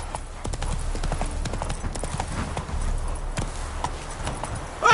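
Roach the horse gallops in The Witcher 3 game, a steady rapid clip-clop of hooves running close and continuous, with a sharp louder burst at the very end.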